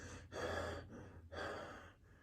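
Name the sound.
imitated heavy breathing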